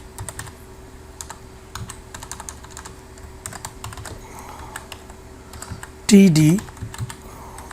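Rapid, light clicks of typing on a computer keyboard while writing jQuery code, in quick bursts under a spoken voice, ending with a louder clattering flurry of keys.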